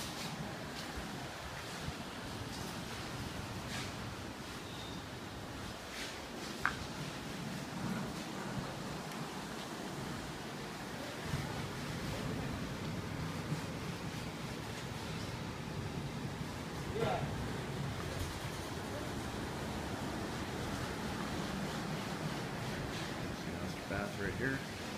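Ocean surf at a beachfront house under construction in La Ceiba, Honduras, forms a steady, moderate wash of waves and wind throughout, with people talking over it.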